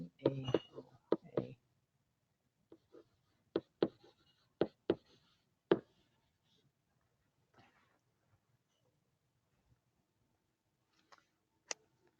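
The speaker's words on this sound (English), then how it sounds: "So I'm going to write all of the elements there." A pen or marker writes on a board while filling in a Venn diagram, a handful of short tapping strokes and scratches, close, separated by quiet pauses with a faint voice at times.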